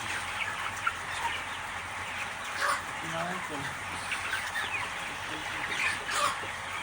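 A large flock of young chickens on a poultry farm in Pakistan keeps up a dense, continuous clucking and chirping chatter, with faint voices murmuring underneath.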